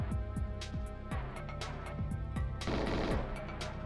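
Gunfire crackles in the video game GoldenEye, rapid rhythmic bursts of sharp shots repeating at a quick, even pace, fairly quiet overall with a thicker cluster of fire toward the end.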